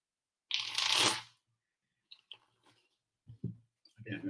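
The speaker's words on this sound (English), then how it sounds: "Okay, I'm gonna shuffle again." A deck of playing cards shuffled by hand during a Premodern tournament match, one loud riffling burst up close followed by a few quieter clicks and card handling sounds.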